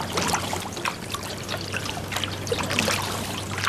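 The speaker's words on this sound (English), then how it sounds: "Over the flowing water" River water flows steadily beneath the stone mill foundations and piers of Chenonceau castle, a continuous close trickling and splashing with a low hum underneath and no voices.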